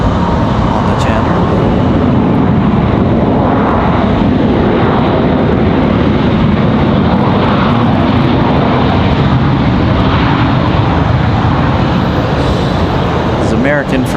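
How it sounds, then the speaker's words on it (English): American Airlines airliner from Dallas arriving at Raleigh-Durham International, a loud broad jet roar that holds steady throughout, with talk over it. "American from Dallas comes in hot."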